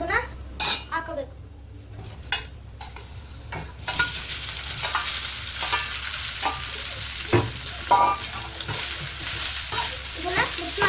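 Rice for jeera rice is stirred and fried in a pan, with scraping spoon strokes, clinks against the metal and a soft sizzle underneath, close and intermittent, while a person speaks.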